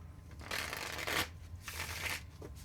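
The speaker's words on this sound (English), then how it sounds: "One more shuffle." Two bursts of tarot cards being riffle-shuffled close up, a rapid papery flutter, then a brief pause and a final short shuffle.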